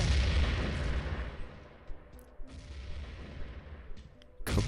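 Grenade blast in a competitive shooter video game, a loud sharp boom that decays into a long rumbling tail, followed by a couple of fainter distant shots and another sharp burst near the end.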